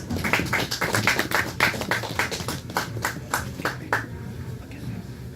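A small audience at a Dongseong Market project event in Daegu claps to welcome the Daegu Art Association president, with sparse distinct handclaps in a loose rhythm that taper off after about four seconds, a low murmur of voices underneath.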